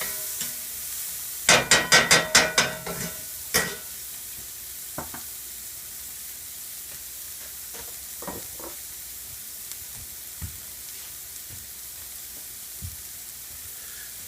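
Garlic and onions sizzling and hissing in a hot pan while being cooked for lasagna, with a burst of stirring scrapes early on, then a steady quiet fry and a few faint clinks.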